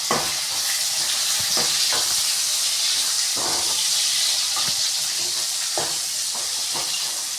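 Tomatoes sautéing in a pan for a fish curry, with a loud continuous sizzle broken by repeated spatula scrapes and taps. No voices are heard.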